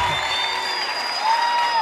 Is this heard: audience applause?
yes